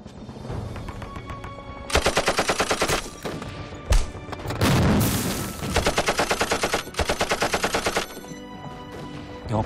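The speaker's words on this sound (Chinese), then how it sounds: "碉堡里的机枪在打国军" Machine gun fire from a bunker in a Red Army war film rips out in loud, rapid, evenly spaced bursts, several separate strings of rounds broken by short pauses and a heavy thump.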